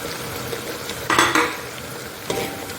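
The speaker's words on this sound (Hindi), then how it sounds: "अब इनको अच्छे से मसाला जो है ना भूनना है" Masala and tomatoes frying in oil as the base for aloo chicken, with a constant close sizzle and a few sharp scraping bursts of a spoon stirring against the pan.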